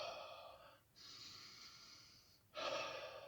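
Slow, deliberate heavy breaths taken by a person during a DMT trip, three long airy breaths in sequence separated by short pauses, close and with no talking.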